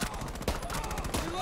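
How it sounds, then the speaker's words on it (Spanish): Gunfire rattles around the player in a video game as enemy shots come from the back of the area, with a couple of sharper cracks standing out over continuous, busy combat noise. "me están disparando desde el fondo y no sé ni desde dónde"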